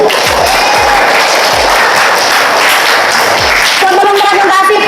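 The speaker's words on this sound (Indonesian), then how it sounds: "Tepuk tangan dulu." A classroom audience claps hands together, a busy, continuous patter of many small claps mixed with cheering voices, loud and close for several seconds.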